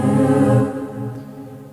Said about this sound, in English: you can hear that noise in the background